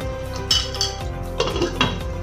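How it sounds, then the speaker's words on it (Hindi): A metal lid is set onto a cooking pot of chicken curry, giving a few close, sharp clanks and clinks of metal on metal in quick succession. "अभी हम इसको 10 मिनट के लिए और रख देते हैं लिड लगाकर"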